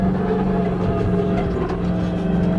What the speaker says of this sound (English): It's a monster truck.